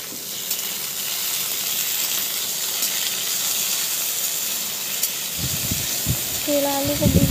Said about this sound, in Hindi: तेल में 2 से 3 चम्मच तेल डालकर केला और आलू को एक साथ गोल्डन ब्राउन होने